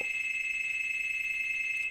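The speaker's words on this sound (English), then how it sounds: "Oh, that's the door. I don't know who's ringing the door right now." A steady electronic ring, like a doorbell or phone bell, holds one continuous tone throughout, fairly faint and alone.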